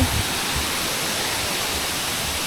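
Broadband roar of water from Khlong Chang waterfall in a Thai national park, a steady, loud rush with no pauses that fills the whole clip.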